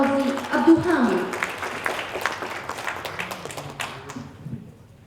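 An audience at an academic conference keynote applauds the speaker. The clapping is strong at first and thins to scattered claps as it fades, with voices talking over it.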